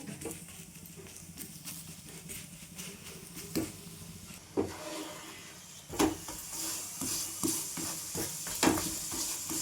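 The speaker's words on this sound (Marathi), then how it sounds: "असं दाबत दाबत आहे ना छान दाबून दाबून छान लालसर भाजून घ्यायचं" High-protein batter pressed down and pan-roasted on low heat until reddish, a soft sizzle under repeated spatula scrapes and taps that grow louder and more frequent.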